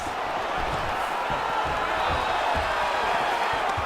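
A UFC event crowd applauds and cheers after a grappling exchange, with dense, steady arena noise and scattered claps running under the broadcast's voices.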